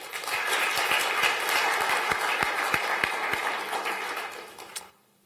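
Sustained applause from a crowd at a design awards event, dense clapping filling the room for several seconds before cutting off abruptly near the end.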